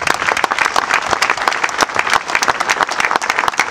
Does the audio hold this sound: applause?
yes